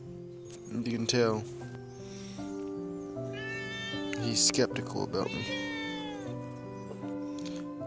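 A cat lets out several drawn-out, wavering meows and yowls, close and fairly loud, spaced a few seconds apart, while a person talks over them.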